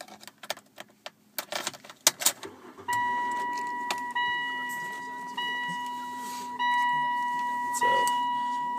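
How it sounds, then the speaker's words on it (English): Keys jangle and click in a 2003 Saturn VUE SUV, then the ignition engages with a steady electronic chime tone repeating over a quiet hum, heard close inside the cabin. "And there's ignition."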